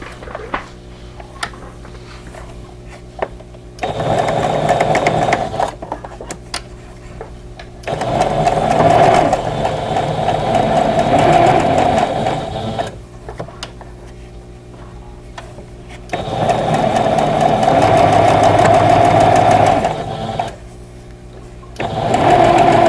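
A sewing machine stitches a vintage-style Summer Star quilt block in several long bursts of steady rapid whirring, stopping between runs with soft clicks and handling sounds, close up and without talk.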